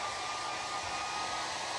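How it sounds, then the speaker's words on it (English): A blow dryer runs steadily at close range, giving a constant whooshing hum with a faint whine and no speech. "Let's hit it with a blow dryer"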